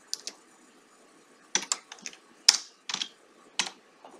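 Keystrokes on a computer keyboard while entering a value in 3D modeling software: a handful of crisp, close clicks in short bursts with pauses between, no talking.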